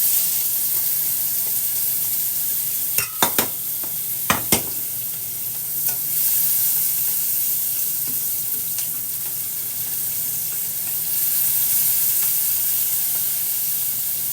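Tomatoes stir-fry in an oiled pan, giving a steady close sizzle throughout, broken by a few sharp clacks of a utensil against the pan early on.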